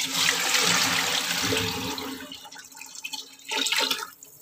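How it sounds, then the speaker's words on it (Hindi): Water pours into rice in a cooking pot, a loud steady gushing splash for about two seconds that tapers off into dribbles and a brief final splash. "अब इसमें पानी डाल देती हूँ।"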